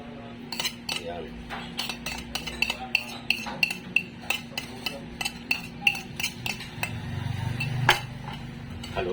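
A utensil stirs chopped red chili and ginger in a pot, giving a series of sharp metallic clinks and scrapes against the pot at an irregular, steady pace, close and clear.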